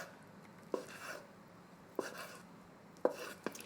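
A kitchen knife cuts through fermented pollock roe (myeongnanjeot) on a cutting board in four soft, separate chops spread across a quiet background.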